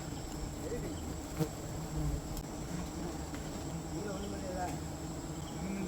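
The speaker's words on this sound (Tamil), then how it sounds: "புகை பட்டதுமே தேனீக்கள் மெதுவாக களைய ஆரம்பிச்சிருச்சு" Honey bees buzz in a dense, continuous hum around a wild hive on a tamarind tree as smoke is applied during teak-flower season honey collection, with a few faint knocks under the swarm.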